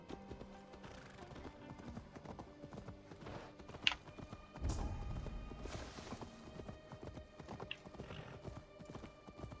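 Horse hooves clip-clop at a walking pace in Assassin's Creed Valhalla, soft and fairly distant, with a brief whinny and a swell of ambient game sound midway, no speech.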